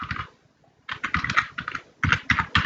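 Fingers type on a computer keyboard in quick clattering bursts, close and crisp, with a short pause after the first few keystrokes, then denser runs of clicks.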